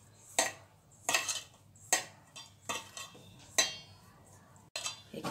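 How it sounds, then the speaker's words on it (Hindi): Namkeen dough is mixed and kneaded by hand with desi ghee in a metal bowl. Six or so sharp, close clinks and scrapes come at irregular intervals over near silence, with no talking. "इस तरह से अच्छे से इसे मिक्स कर लेंगे, मसल कर इसे मिक्स करना है।"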